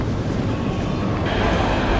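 A metro train at Chernihivska station in Kyiv, Ukraine, gives a loud, close, dense rumbling roar with rattling and wind-like rush, steady for two seconds.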